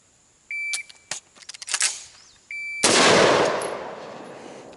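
A shot timer's sharp electronic beep sounds, followed by clicks and handling noise, then a second beep and a loud, close AR-15 rifle shot with a 7.5-inch barrel and a long ringing decay outdoors.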